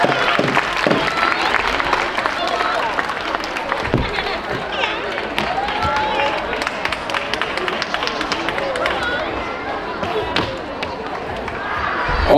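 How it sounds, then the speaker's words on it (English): Crowd cheering and clapping for a young Chinese warrior at the APCC grand opening day, a dense steady wash of applause and shouts lasting throughout, with loud voices mixed in. "Come on, y'all, clap it up for this young Chinese warrior."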